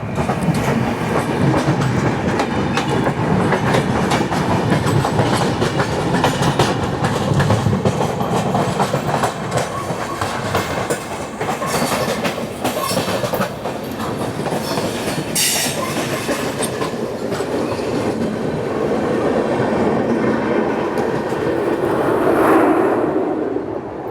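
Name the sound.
Okha Bilaspur Express train in transit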